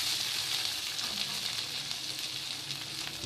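Beef undercut steak sizzles steadily in a hot pan, a dense, even crackle and hiss that stays constant throughout, close and moderately quiet, with no voices.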